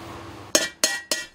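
Three sharp, ringing metallic strikes of a hammer on silver as a craftsman shapes a silver kettle, evenly spaced and close, each with a short bright decay and no talk.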